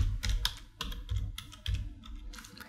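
Quiet, close typing on a computer keyboard, a quick irregular patter of light key clicks with a few short pauses.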